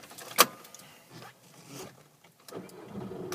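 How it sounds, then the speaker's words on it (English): A Volkswagen Golf is started with a sharp click and brief starter whir, then the engine settles into a quiet, low idle close by, with faint rustling. "looking at the display whilst I start the vehicle"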